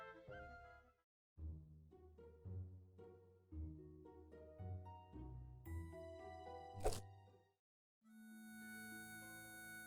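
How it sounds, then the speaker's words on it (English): A heavy barbell dropped to the floor in the video game Build a Better Vampire lands with one loud, sharp thud late in the clip. Bright, cartoonish musical tones play around it, and a sustained tone follows. "Da Vinci lifts the heavy barbell over her head, then drops it to the floor with a thud"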